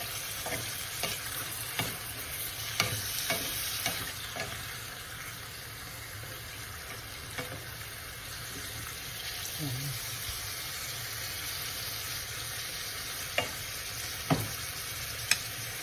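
Pork frying and being stirred in a pan for Bicol express: a steady, close sizzle runs throughout, broken by scattered scraping and clicking from the utensil.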